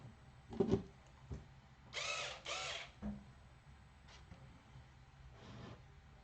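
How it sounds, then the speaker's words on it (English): A power drill bores straight into bare wood with no pilot hole, two short whirring bursts back to back, then a later faint burst. Scattered clunks and handling knocks come between them, and the whole scene is close but quiet. "I am just drilling into bare wood. I'm not doing any pilot holes."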